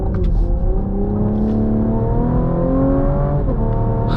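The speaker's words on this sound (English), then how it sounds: "it still has a nice snap and crackle to this V6 engine here when you're kind of on it a little bit" Cadillac CT5 V6 engine accelerating from inside the car, a loud, continuous rising drone that climbs in pitch, dips briefly near a shift, then climbs again, with no talking.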